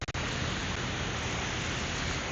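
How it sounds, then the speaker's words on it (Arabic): Heavy rain pours down on a street in Karaköy, a dense, loud and continuous hiss of falling water with a few brief sharper hits at the start. "المطر كلش قوي"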